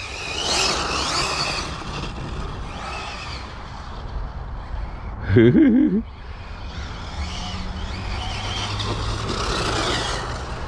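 Arrma TLR Typhon 6S RC buggy running at full throttle outdoors, a steady high-pitched electric motor whine with tire noise, surging louder briefly around the middle.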